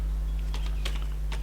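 Fingers typing code on a computer keyboard, a few quick light clicks in short bursts, close and clear over a steady low hum.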